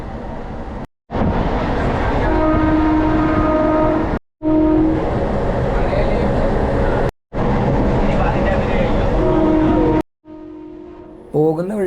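The Ooty heritage train clatters along steadily, its loud rolling rumble broken by a few brief gaps, and a horn sounds at the end.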